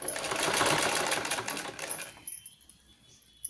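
A sewing machine stitching fabric with a fast, close mechanical whir that runs steadily for about two seconds, then stops, leaving a few faint clicks.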